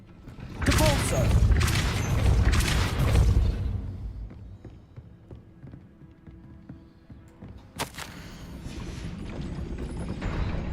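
Depulso spell cast in Hogwarts Legacy against a mechanism that raises a gate: a loud magical burst with rumbling, grinding machinery, fading into quieter creaks and clanks, then another sharp blast near the end.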